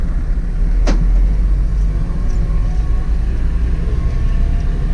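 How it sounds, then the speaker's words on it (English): A Vauxhall Vivaro van drives with a power steering fault that causes whining. A loud, steady engine and road rumble fills the cabin, with a short chirp early on. "as you can hear it, we still got the whining noise"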